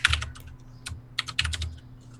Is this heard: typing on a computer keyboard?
yes